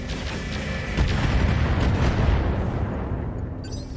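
Mech weapons firing on a target in the Roguetech BattleTech game: a heavy, rumbling barrage of booms and blasts that swells after the first second and slowly fades, with faint sharp pops trailing at the end.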